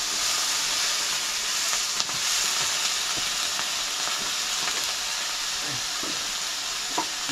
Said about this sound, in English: Potato salad fry.